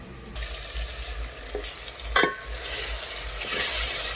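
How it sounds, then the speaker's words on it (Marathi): Ginger-garlic paste being stirred into fried tomatoes and onions for mutton biryani on a wood-fired stove: a steady low sizzle with intermittent scraping strokes, one sharper clatter midway, no talking. "मिक्स करायचं छान ते आलं लसूण छान मिक्स करून घेतले टोमॅटो कांद्यामध्ये"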